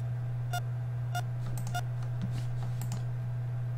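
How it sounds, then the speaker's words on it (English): Patient monitor in a hospital video game emits short repeated electronic beeps at a steady pace over a constant low hum, with faint clicks scattered between. "Try to take a look at the patient's monitor. I did! It beeps."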